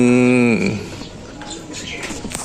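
A racing pigeon gives a clear, loud, drawn-out coo at the start, then fainter rustling and scattered bird sounds follow nearby.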